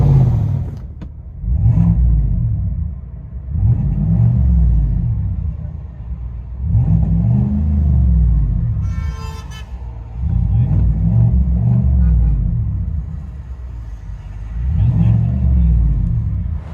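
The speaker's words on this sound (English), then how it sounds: "GMC Sierra, FLOWMASTER Super 10, resonator the leads. Now you can hear it." A 2021 GMC Sierra AT4 6.2L V8 with a Flowmaster Super 10 exhaust surges in heavy regular revs about every two seconds, heard muffled from inside the cab, with a brief higher whine partway through.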